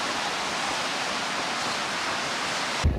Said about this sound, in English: Sophie is currently taking a shower with our boss